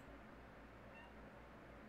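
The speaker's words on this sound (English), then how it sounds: "Kitty, what is it? Why do you always keep meowing?" A pet cat meows faintly over a steady low room hum, with no one talking.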